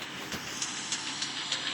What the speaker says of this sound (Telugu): ఏంది ట్రైన్ గాల్లో పోతుందా?